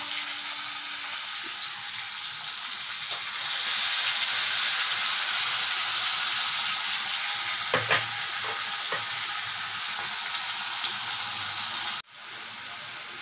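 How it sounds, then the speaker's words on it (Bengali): Shrimp and ground spice paste sizzle steadily in a pan for arum lobe with shrimp, a loud even hiss that swells midway, with a few scraping stirs before the frying drops off suddenly near the end. "এবার আমি মশলাটা যে বেটে রেখেছিলাম সেই মশলাটা দিয়ে দেবো।"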